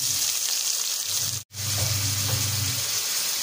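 Onion, mustard seeds and garlic sautéing in a pan give a steady close sizzle that drops out for an instant near the middle, then resumes with faint stirring scrapes and no talk.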